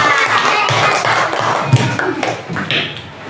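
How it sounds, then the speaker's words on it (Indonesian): Children clap their hands in a classroom in scattered, uneven bursts, with light taps and thumps mixed in, and a voice is heard over part of it. "Tepuk tangan untuk kelompok pohon beringin."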